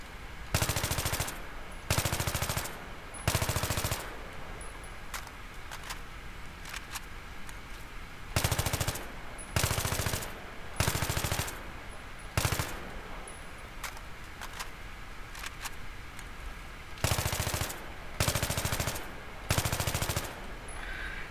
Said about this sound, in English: even when you're bursting the gun maybe 8 to 10 bursts, it still shoots very accurately with the heavy barrel